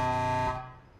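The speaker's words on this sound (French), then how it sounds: "Ok, klaxon." Truck horn blast in the space trucking video game Star Trucker, a loud, steady harmonic honk held for about half a second before cutting off and leaving a brief fading tail, with no talk.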